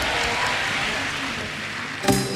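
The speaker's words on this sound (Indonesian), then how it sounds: "Tepuk tangan bagi Tuhan yang luar biasa." Church congregation applauding at an Indonesian Sunday worship service, a steady, dense wash of clapping throughout, with a sharp louder clap or knock near the end.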